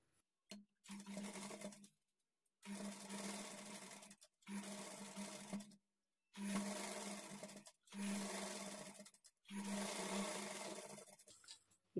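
A sewing machine stitches a blouse lining in short bursts of whirring, about six runs of a few seconds each, separated by brief silent pauses, close and alone.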